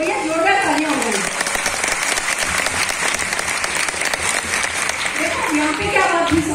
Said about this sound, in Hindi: तो भैया जोरदार तालियां हो गई